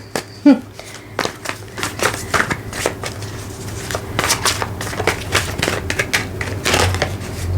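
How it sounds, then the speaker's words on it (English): Tarot cards being shuffled for a love reading, a run of quick papery riffles and snaps with soft cracks, close and fairly steady, a voice briefly present at the start. "so let's start shuffling."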